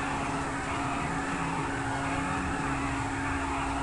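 A car revs hard with a steady, droning engine roar while its tires smoke in the GTA 5 video game, heard alone and fairly faint without talk.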